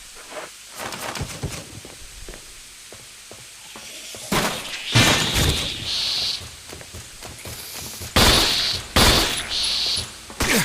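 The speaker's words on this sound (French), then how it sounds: "J'essaie de les neutraliser à coups de balles normales." Gunshots fired at creatures in the survival horror game Resident Evil 1, with a few sharp, loud shots and impacts spaced apart and quieter clicks and footsteps between them.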